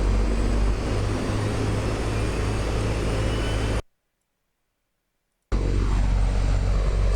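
Cub light aircraft engine at full power in a flight simulator game: a loud, steady propeller drone and engine roar, broken by a sudden gap of silence before the same roar resumes.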